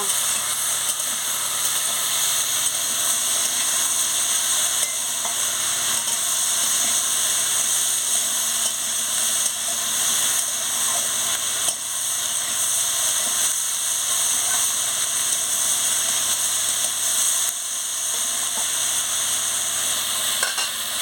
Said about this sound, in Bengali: পরিমাণ মতন একটু হলুদ দিয়ে দিচ্ছি দিয়ে ভালো করে আলু আর পেঁয়াজটাকে কষিয়ে নিচ্ছি